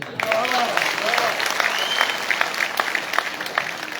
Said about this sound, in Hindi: थोड़ी सी तालियां कमजोर रहती, इसको घनीभूत करिएगा